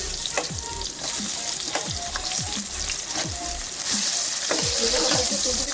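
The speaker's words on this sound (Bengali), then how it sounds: "প্রথমে হলুদ মাখিয়ে রাখা বেগুনটা খুব ভালো মতো লাল লাল করে ভেজে নেব।" Turmeric-coated eggplant pieces frying in hot oil, a constant bubbling sizzle with repeated scrapes and clinks as the pieces are turned, growing slightly louder toward the end.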